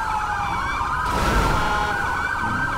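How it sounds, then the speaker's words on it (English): Police car siren in the FivePD mod of GTA V: a loud wailing two-tone siren rising and falling continuously for a few seconds, close and alone with no talk. "I think he's also now using a siren."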